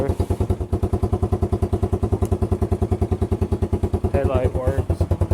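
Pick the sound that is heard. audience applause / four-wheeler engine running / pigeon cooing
four-wheeler engine running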